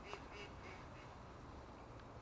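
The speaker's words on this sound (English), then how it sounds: "wait for the ducks to go past" Ducks quack faintly near a fishing spot at Caerphilly/Bedwas, a few short calls at the start, almost buried in steady wind rumble.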